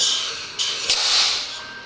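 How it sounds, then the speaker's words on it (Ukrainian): Air hisses steadily into the engine intake of a Volkswagen Crafter during a leak-down check on a suspect valve, loud and close, with slight surges in the broadband rush. "шипить у впуск."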